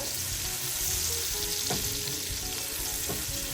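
Onions frying in a pan for a home-cooked Bangladeshi dish of chepa shutki with eggplant and potato, giving a steady close sizzle and crackle that runs throughout with a couple of brief stirring scrapes, no talking.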